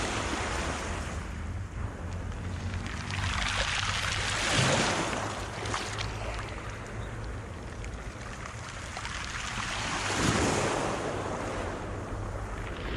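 Ocean waves wash onto the shore at Nice on the French Riviera, two broad swells of surf rising and falling in a steady, close roar with a windy undertone.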